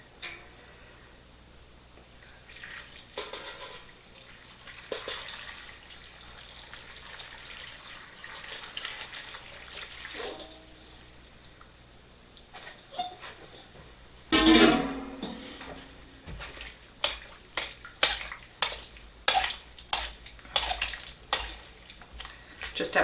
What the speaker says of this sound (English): I'm going to pour the salt water over this mixture